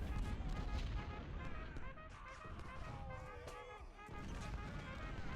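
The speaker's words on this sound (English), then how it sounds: "there's that canister fire I was worried about" Artillery canister fire in the Civil War strategy game Ultimate General rumbles as dense, overlapping booms and crackling volleys, steady and continuous, with a voice talking over the battle.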